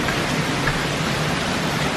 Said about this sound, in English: lot of rain today.